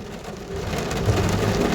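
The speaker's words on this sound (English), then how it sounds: "It's raining, but we're gonna continue" Steady rain falls as a soft, dense hiss that grows slightly louder over a brief moment, with a low rumble underneath.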